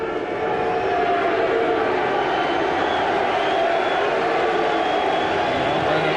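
Home crowd at a Livingston v Celtic football match roars and murmurs in a dense, continuous wash of stadium noise, loud and sustained across the whole stretch without letup.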